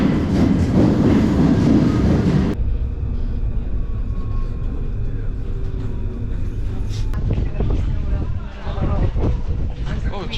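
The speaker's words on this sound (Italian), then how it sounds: "adesso andiamo in direzione Montmartre, in questo intreccio di metro." A Paris metro train rides toward Montmartre with a loud, steady rumble and rail roar, its tone shifting partway through as the carriage moves, with voices talking over it.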